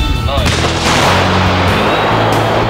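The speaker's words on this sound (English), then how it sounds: "Another ERA version is tested with a stronger PG-7 anti-tank grenade penetrating 600 mm of steel armor." A PG-7 anti-tank grenade detonating against explosive reactive armor on a tank, one very loud, close blast that booms and then rumbles on in a long, dense roar.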